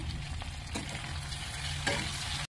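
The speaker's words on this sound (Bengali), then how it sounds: "পাস্তা দিয়ে কিছুক্ষণ ভেজে নেব।" Pasta frying with chicken, chilli, garlic and onion in a pan gives a steady, close sizzle with a few stirring scrapes, and no talk over it.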